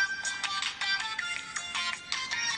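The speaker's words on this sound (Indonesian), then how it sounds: "Mama kamu telepon, Angel." A phone ringtone chirps in repeated bursts, a bright electronic melody close by and clear, with no one talking over it.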